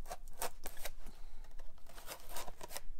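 A serrated knife saws through a paper mache jack-o'-lantern to cut out its face features, making a quick run of short, scratchy rasping strokes close by.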